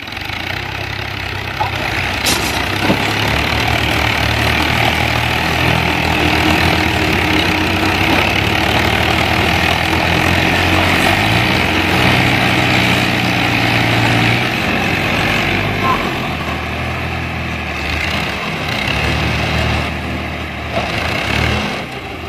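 Two tractors stuck in a field with engines running, a loud continuous diesel drone that holds steady throughout, close by with no talk over it.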